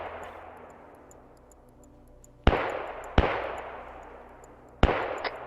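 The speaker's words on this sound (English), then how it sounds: "we hear those mortars over there" Three distant mortar blasts in a military video game on a border raid mission, each a sharp boom with a long fading rumble, irregularly spaced over a quiet ambient background.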